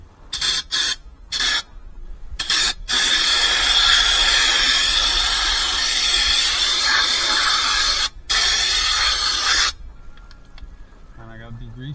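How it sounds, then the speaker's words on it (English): Siphon air gun on a Freightliner Classic/FLD truck blasting compressed air and degreaser in a loud, steady hiss that runs for several seconds, broken by short bursts at the start and a brief cut near the end. "it's spraying pressure to air. At the same time, it's spraying degreaser"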